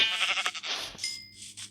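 A sheep bleats in a video game, a close, wavering bleat heard alone, followed by a short second call.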